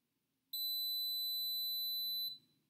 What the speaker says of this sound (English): And that final beep indicates a successful pairing.